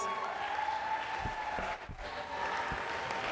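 Audience at a school sports awards banquet applauding the recipients, a soft, distant wash of clapping from a crowd with a few sharper claps standing out, under ongoing room murmur and talk.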